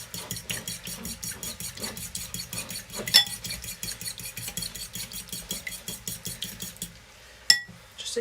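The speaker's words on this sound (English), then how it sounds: "Going to give that a quick mix up." A spicy beef noodle bowl being stirred in a pot, with steady, rhythmic scraping and clinking of a utensil against the metal that runs several seconds, then stops with one sharp clink near the end.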